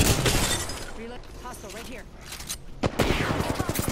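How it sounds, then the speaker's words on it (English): Apex Legends firefight with bursts of weapon fire and crackling impacts at the start and again toward the end, a quieter stretch in between, with a player talking over it. "I'm getting shot at by a lifeline"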